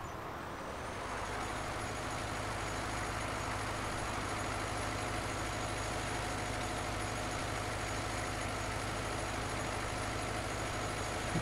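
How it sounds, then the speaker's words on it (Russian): A steady, low humming drone of an electric tractor running in Farming Simulator 19, constant and unchanging throughout with a faint whine on top, no speech. "Оказывается, это электрический трактор, да?"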